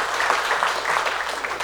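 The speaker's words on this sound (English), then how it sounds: "I hope you know every time you applaud" Short burst of audience applause at a live talk, a warm, dense patter of many hands clapping at once, fairly close and even in level, with no speech on top.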